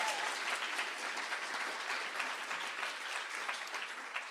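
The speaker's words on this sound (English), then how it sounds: "feel free to clap for them because they're awesome" Continuous clapping from an audience at an art contest celebration, even and sustained throughout, heard somewhat distant and fairly soft.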